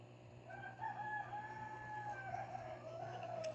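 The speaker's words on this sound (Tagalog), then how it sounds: "Medyo umingi na yung manok guys, no?" A rooster crows once, a long drawn-out call heard from a distance and faint, over a low steady background hum late at night.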